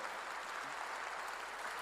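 A church congregation gives a brief, dense wash of applause. It is a fairly soft, continuous patter of many hands with no voices over it.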